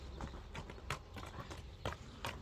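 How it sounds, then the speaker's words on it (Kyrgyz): A racehorse gallops with its hooves clip-clopping in a quick, uneven series of sharp thuds, close and moderately loud over a low background rumble. "күлүк ат экен, а дегенде эле чабып чыкты жаныбар токтотпой"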